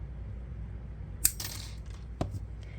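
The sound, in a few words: cutting a binding wire of a wire-bound notebook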